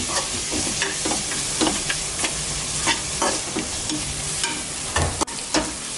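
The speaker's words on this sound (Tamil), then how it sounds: "இது எல்லாத்தையும் சேர்த்துட்டு எல்லாத்தையும் ஒன்றா நல்லா வதக்கி விட்டுருவோம்." Spices for a fish biryani sauté in a pan, giving a steady, close sizzle broken by repeated scraping stir strokes throughout, with no voices.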